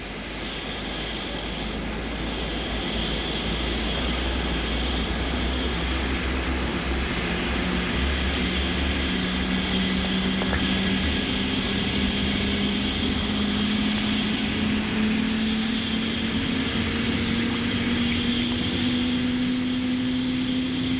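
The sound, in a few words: airplane engine running before takeoff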